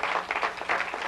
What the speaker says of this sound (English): That's the men clapping.